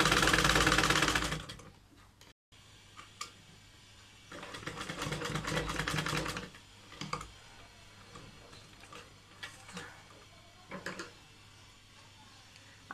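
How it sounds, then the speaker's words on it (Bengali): Sewing machine stitching a hidden pocket onto a salwar, with bursts of rapid mechanical ticking and whirring separated by pauses and quieter clicks, close and clear with no talk. "আমি এভাবে করে এখানে সেলাই দিয়ে নিচ্ছি, সম্পূর্ণ সাইডে এভাবে করে আমাদেরকে সেলাই করে নিতে হবে"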